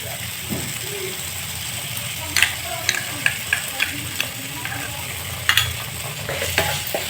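Tomato sauce frying in oil in a pan for spicy garlic pasta makes a soft hiss, broken by a series of sharp scraping clicks as a spoon stirs and taps against the pan.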